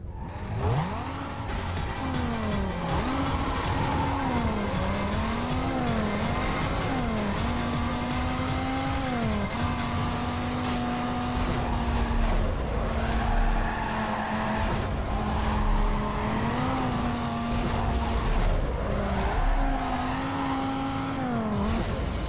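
Race cars roar through a regular sprint race in Need for Speed: Carbon, engines revving and shifting up and down in pitch continuously, with occasional tire squeal, loud and close for the whole stretch.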